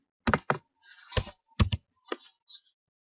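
A handful of separate computer keyboard key clicks and taps, sharp and close, in an uneven rhythm with short pauses between them in a quiet room.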